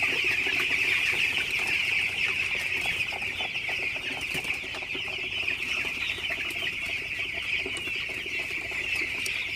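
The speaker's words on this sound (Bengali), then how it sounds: "মুরগিগুলো পানি খাইতেছে" A flock of 16-day-old broiler chickens drinking water in a shed, keeping up a dense, steady chorus of soft clucks and chirps at close range.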